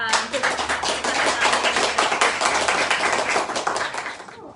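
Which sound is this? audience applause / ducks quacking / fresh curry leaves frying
audience applause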